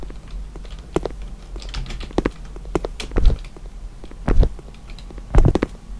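Computer keyboard keys pressed while testing movement controls in a Unity first-person game, a loud, irregular clatter of taps and heavier keystrokes, close to the microphone with no talk.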